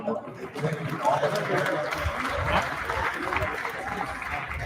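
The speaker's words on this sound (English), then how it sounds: "take a big round of applause" A crowd at a festival keynote event claps steadily in a broad wash of applause, with voices chattering underneath throughout.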